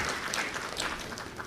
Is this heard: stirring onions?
no